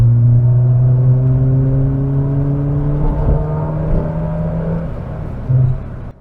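A 1.7-litre Ford Puma engine revs hard on an open road, its steady droning whine climbing in pitch and holding loud, heard from inside the car without talking.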